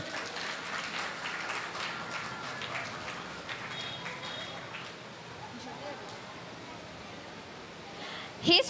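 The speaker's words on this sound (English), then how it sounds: "Let's give them a huge round of applause." Applause from an audience at a church Sunday school annual day program, a broad steady patter under crowd chatter and voices, fading slightly midway, with a brief louder knock near the end.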